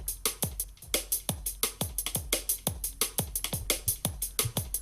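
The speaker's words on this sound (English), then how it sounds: "This is actually one of those loops from that pack" A drum loop from a free acoustic and electro drum sample pack plays alone, with steady punchy kicks, crisp snares and busy hi-hats repeating in a driving groove, loud and close.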